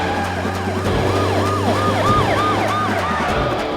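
A police siren wails in a rapid up-and-down pattern, loud and close, over steady traffic and engine rumble.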